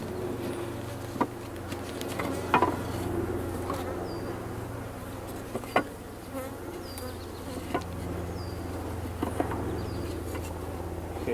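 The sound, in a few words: bees buzzing in a hive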